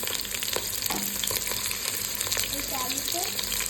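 Potatoes fry in hot oil for biryani, a close, continuous sizzle with occasional scraping and clinks, while voices murmur faintly in the background.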